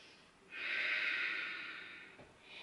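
One long, deep breath during yoga practice, drawn in as an audible breathy rush of air lasting over a second, close and fairly quiet, followed by a softer breath starting near the end.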